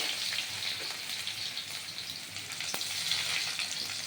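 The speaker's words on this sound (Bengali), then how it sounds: "এবার এই তেলের মধ্যে আমি কি করব এই কাঁচা লঙ্কা আর পেঁয়াজ ছেড়ে দেবো" Green chillies and onion sizzle and spit in hot oil, a steady bright frying hiss at moderate level with one sharp pop near the end, with no talking.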